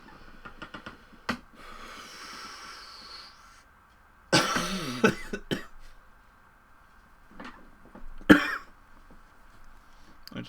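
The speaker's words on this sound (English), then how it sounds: "I just stretched and started coughing." A person coughs in a couple of harsh bursts, with a few faint clicks and knocks around them in a quiet room.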